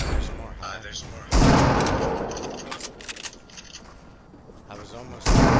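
Heavy shotgun blasts from a video game boom out in two loud, booming bursts a few seconds apart, with a quieter, busy stretch of game noise between them.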